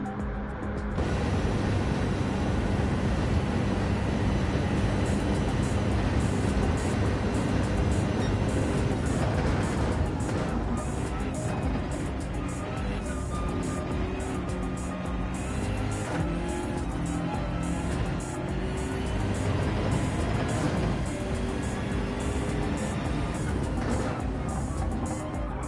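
A BMW GT3 race car in a racing video game at Spa, heard onboard with a loud, continuous engine roar that rises and falls through gear changes, with tyre squeal as it corners.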